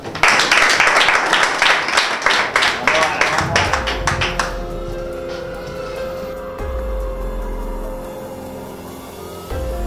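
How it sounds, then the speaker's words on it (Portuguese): An audience claps and cheers at a televised rap battle, a dense burst of applause that fades after a few seconds into music and lower background sound. "Aplausos, pessoal."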